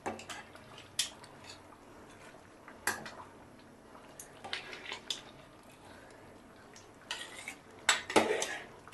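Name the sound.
stirring spice tempering in a pot for egg khichuri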